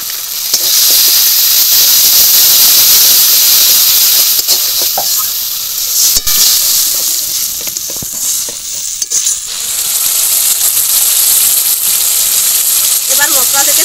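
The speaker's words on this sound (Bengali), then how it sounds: "এবার জল দিয়ে সমস্ত মশলা একটু কষাবো" Ground spices and poppy seed paste sizzle loudly in hot oil while being sautéed with a splash of water in a pan, a continuous close frying hiss with occasional stirring scrapes and a brief voice partway through.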